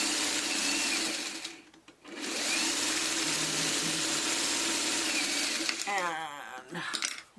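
A sewing machine stitches across the bulky seams of log cabin quilt blocks with a steady, close whirring hum. The hum stops briefly once, then runs on, and a voice speaks near the end.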